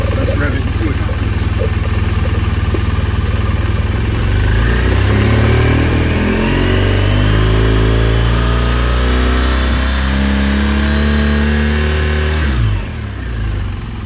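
A 2015 BMW R1200GS motorcycle with a camshaft position sensor fault idles, then revs up in several strong rising sweeps and drops back, loud and close, with some voice heard over it.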